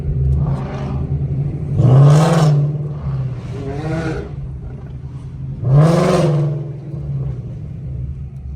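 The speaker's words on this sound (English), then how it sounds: "We got a Lambo pulling up with us too." A Lamborghini rolls up at an exotic car meet beside a Corvette C8 and a Mustang Mach 1, its engine rumbling nearby and swelling into two distinct revs, each rising and fading back to a low idle.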